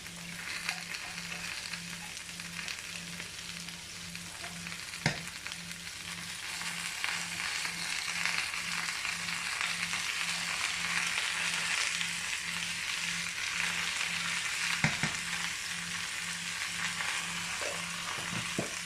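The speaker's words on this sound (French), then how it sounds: "je vais y mettre les oignons et les échalotes. Parce que je voudrais que ça grille un peu aussi" Onions and shallots sizzling in a pan with sautéed potatoes and chorizo, a constant loud frying hiss with occasional sharp clicks and spoon knocks, no voices.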